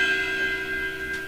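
A cymbal struck on its bell gives a single clear, bright ping that rings on steadily with sustained tones, close and alone.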